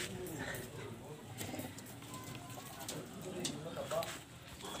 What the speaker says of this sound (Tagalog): So yun mga kalapatids.